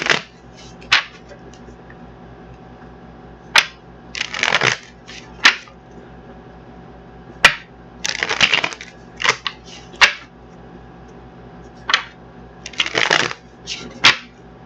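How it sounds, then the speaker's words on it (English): Tarot cards are shuffled in several quick riffling bursts, crisp and close, separated by sharp taps and short pauses over a faint steady hum. "see if we can get these cards shuffled up"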